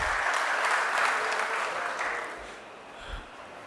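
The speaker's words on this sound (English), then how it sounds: "another round of applause for that fantastic contribution by our youth vice chairman." Crowd applause at an outdoor political public meeting, a broad wash of clapping that starts strong and gradually fades, with a faint thump near the end.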